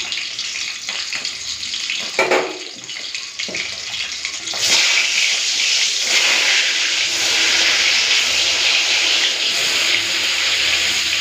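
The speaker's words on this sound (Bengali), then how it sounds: "এদিকে তেলটা গরম হয়ে গেছে বেগুনটা ভেজে দিচ্ছি" Salted eggplant pieces dropped into hot oil, a few clatters giving way to a loud, steady hiss of frying that holds to the end without any talk.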